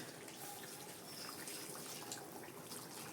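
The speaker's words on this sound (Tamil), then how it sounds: "நம்ம தண்ணியை விட்டுருவோம்" Water is poured into simmering chicken gravy in a pan, a faint, steady hiss and trickle that holds evenly throughout, with no talk over it.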